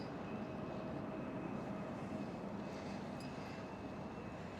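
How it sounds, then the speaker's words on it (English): An airliner landing at Schiphol Airport with thrust reverser deployed gives a steady, distant broadband roar with low rumble and a faint whine, unbroken throughout. "Still the reverser deployed."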